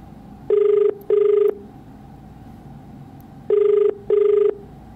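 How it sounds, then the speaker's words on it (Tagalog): A telephone ringback tone sounds in two double rings, each pair a short steady buzz, separated by a pause over a quiet line hiss, as a call goes unanswered. "napapakinggan mga boss, telepono, nag-ring lang."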